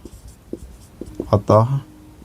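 Pen or pencil writing out a maths solution on paper, soft scratchy strokes and taps in short bursts, close, with a voice speaking partway through.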